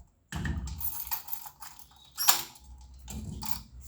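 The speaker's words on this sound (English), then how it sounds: "Lock my door because we'll be out walking around." A house door being locked, with a few close mechanical clicks and rattles of the lock and handle, alone with no talking.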